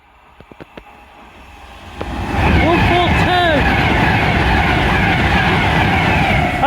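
An Avanti West Coast train passing through Nuneaton, building from a faint approach after a few clicks into a loud, sustained rumble with squealing, whining wheel tones, alongside some background talk.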